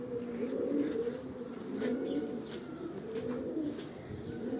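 Pigeons coo softly and steadily in low, rolling, repeated calls, with faint chirps and light background noise around them.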